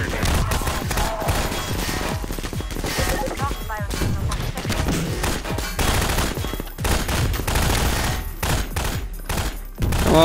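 Gunfire from the Half-Life 2 mod DayHard video game: dense, continuous bursts of automatic shots and crashes fill the whole stretch, loud and close, with a player's voice shouting over them at times.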